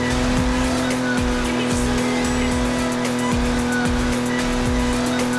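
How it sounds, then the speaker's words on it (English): A Jaguar E-Type drives hard in Forza Horizon 4 with a steady engine drone and repeated short tire squeals. Someone narrates over it. "The E-Type was light and fast."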